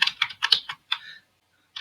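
Code being typed on a computer keyboard, a quick close burst of about six crisp key clicks, a short pause, then one final tap.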